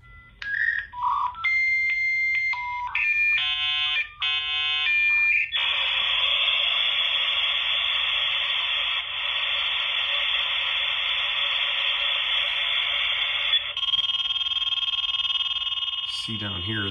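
An old dial-up modem dials and connects, first rapid touch-tone beeps, then a long steady harsh hiss of handshake noise and a shift to a second tone near the end.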